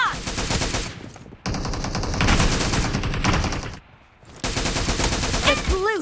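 Rapid automatic gunfire in the mobile battle royale game PUBG Mobile, loud sustained bursts broken by a few brief pauses, with a tail of ringing tones at the end.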